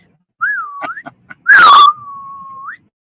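Person whistling close by, a clear sliding tone with a few faint taps between phrases, a louder raspy blast in the middle, then a long steady held note.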